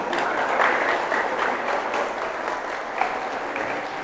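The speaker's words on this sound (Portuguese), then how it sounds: "Vamos dar mais uma salva de palmas a Deus." A church congregation applauds during a Portuguese-language sermon, a steady wash of many hands clapping at moderate loudness with no speech over it, holding evenly from start to finish.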